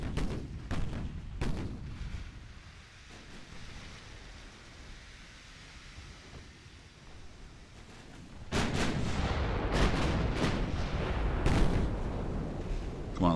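Battleship turret guns firing in the naval warfare game Ultimate Admiral: Dreadnoughts: heavy booming salvos with rolling rumble, quieter at first, then a loud, dense barrage of repeated blasts.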